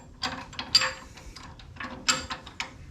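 A floor jack rolls under a 1959 Willys Jeep axle, giving quiet clicking and ratcheting mechanical sounds in short uneven bursts close by.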